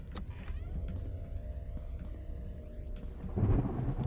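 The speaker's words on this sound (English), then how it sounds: "Oh no, lightning." Thunder from the Deathbloom video game rolls in as a long low rumble with a sharper crack near the end, accompanied by rain-like hiss and no speech.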